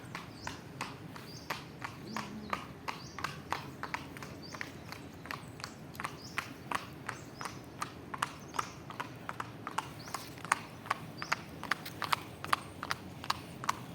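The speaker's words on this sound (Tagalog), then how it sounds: "May kabayo." A horse walks on a hard road on a trip to Baguio, its hooves clip-clopping in a steady, even rhythm throughout. The sound is fairly close over street noise.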